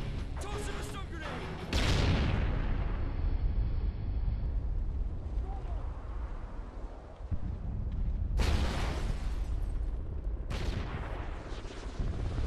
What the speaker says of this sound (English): Toss him a stun grenade.